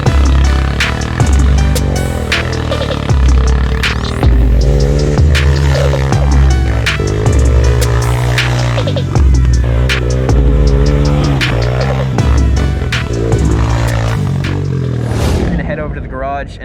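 A car spins donuts to test a Diamond J custom widened wheelbase kit, its engine droning and revving loudly and steadily, rising and falling in pitch throughout.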